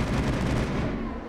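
A brief burst of rapid, loud sci-fi gunfire in Mass Effect, dense and continuous and tailing off slightly at the end.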